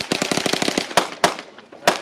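A Radian Weapons rifle fires at Shot Show 2023: a rapid string of loud, sharp shots close by, followed by a few slower, spaced single reports.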